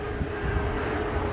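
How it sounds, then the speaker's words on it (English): A propeller or jet airplane passes overhead outdoors during a Ford Mustang spoiler install, a steady broadband engine rumble holding at constant loudness throughout without talk. "there's a plane."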